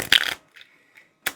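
An Earthbound tarot card deck being shuffled by hand, with a loud riffling burst of cards, a couple of faint soft slides, then one more short sharp flutter of cards at the end.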